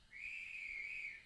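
A guard's whistle on a model railway layout sounds as one steady, shrill, sustained tone lasting about a second, fairly faint with no voices.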